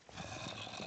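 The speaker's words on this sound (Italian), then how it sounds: "uno zombie mi ha sentito, raga." A zombie in the video game Don't Starve gives a low, rough, rasping growl, a short sustained snarl lasting under a second.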